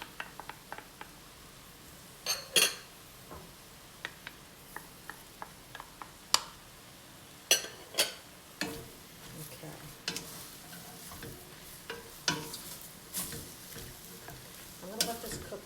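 Onions and peppers for turkey chili sauté quietly in a pot, a soft sizzle under frequent sharp clinks and scrapes of a spoon stirring against the pot.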